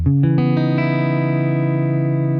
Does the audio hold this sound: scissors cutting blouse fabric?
no